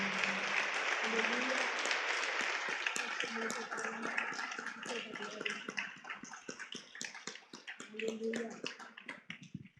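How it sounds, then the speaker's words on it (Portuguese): Church congregation clapping for the Lord during a worship service, loud at first then thinning into scattered claps, with voices and brief exclamations mixed in underneath. "Então vamos dar uma salva de palmas para o Senhor"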